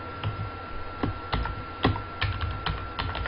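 Rapid clicking of computer keyboard keys, steady irregular taps close to the microphone at moderate loudness, with no talking.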